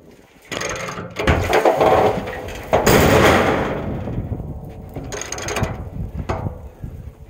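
Hydraulic and mechanical clanking as the two decks of a self-unloading bale trailer tilt, with ratcheting, grinding metal and a couple of heavy thumps over a steady mechanical drone, close and loud, no talking.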